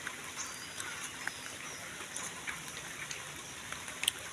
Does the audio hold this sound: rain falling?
yes